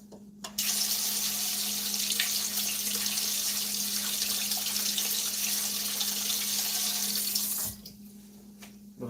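Water streams steadily from a tap into a pan while a maple blueberry syrup with cornstarch is being made, a continuous splashing hiss for several seconds that stops abruptly.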